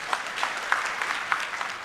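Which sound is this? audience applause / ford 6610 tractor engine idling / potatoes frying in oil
audience applause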